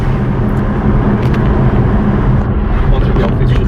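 Aston Martin DBS Superleggera pulling in third gear at about half throttle, a loud steady engine drone with heavy low rumble and road roar filling the whole stretch, with faint talk underneath.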